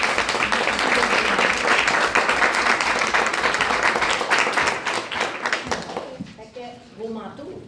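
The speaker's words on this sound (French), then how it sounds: "qu'on les applaudit fort." A crowd claps loudly and steadily for several seconds, then the applause thins out and fades as voices begin to be heard.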